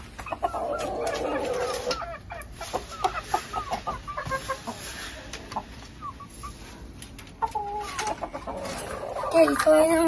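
Several fighting roosters bred for cockfighting cluck and squawk in scattered close bursts, a few sharper calls rising near the end over faint background noise.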